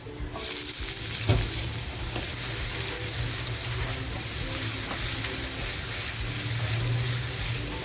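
Onion fries in hot oil while a chicken masala is prepared at home, a dense continuous sizzle under a low steady hum, with a brief clatter near the start and no talking.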